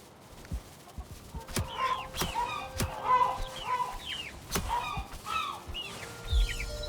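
Several chickens on a Valheim farm cluck repeatedly in a lively, overlapping patter, punctuated by sharp hitting thuds, all fairly close and clear.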